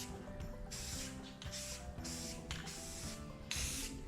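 A spray paint can hisses in several repeated bursts while a wood grain finish is applied, each spray a steady, close, fairly loud rush of air separated by brief pauses.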